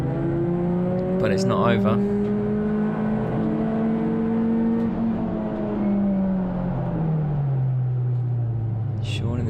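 Touring race cars at the Brands Hatch GP circuit in a CSCC Tin Tops race rush past with loud, rising and falling engine drones, one car's pitch sweeping down as it passes, while a commentator talks over the racket.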